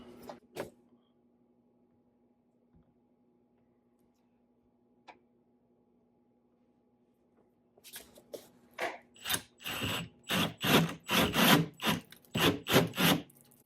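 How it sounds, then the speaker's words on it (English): A drill-driven hole saw cuts through a door for a deadbolt, with a pilot cup guiding it. After long near-silence it grinds in rhythmic rasping bursts, loud and close, starting slowly. "And then we're going to drill through."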